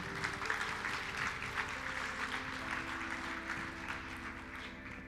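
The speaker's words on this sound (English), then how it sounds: "can I get a huge round of applause for the deputy headmistress of my school" A TEDx education event audience in Luxembourg gives steady, continuous applause for a school deputy headmistress, faint and distant, with a low hum underneath.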